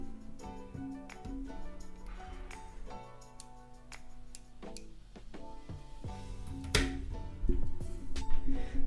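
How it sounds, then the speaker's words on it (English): Small clicks and ticks come from the magnet strength being adjusted on an X-Man Bell V2 Pyraminx puzzle, sounding close to the microphone over a faint musical background, with a few louder clacks toward the end. "That is the sound of me changing the magnet strength."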